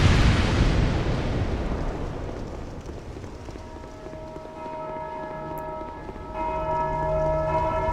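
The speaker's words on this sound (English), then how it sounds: "Bells used to mean good things in Dark Souls." Deep church-style bells ring out in the video game Dark Souls, slow resonant tolls that sustain and overlap over a rumbling low background, with no talk.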